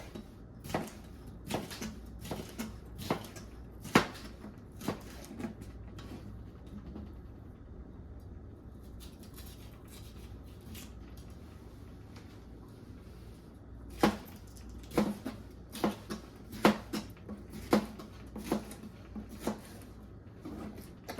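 A knife slices bell peppers into half-inch strips for chicken fajitas, producing crisp repeated chops on a cutting board in two bursts separated by a quieter stretch.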